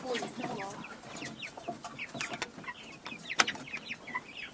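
Hens cluck in repeated short bursts close by on a home farm, with people talking over and between the calls.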